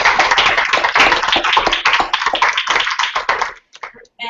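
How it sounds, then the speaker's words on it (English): Applause from a small audience at a talk by a newspaper graphics and visuals editor: dense, close clapping that thins out and fades to scattered claps near the end. "All right, guys, one more round of applause for Emily."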